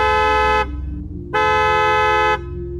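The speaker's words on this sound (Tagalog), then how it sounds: "bumusina ka ng ilang beses para maglabasan ng mga tao dito sa baryo" Two loud, sustained car horn blasts, the first about half a second and the second longer, over a low idling engine rumble.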